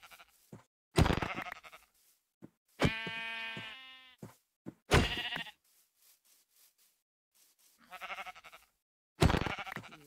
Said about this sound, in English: Ooh, but there are some sheep over there.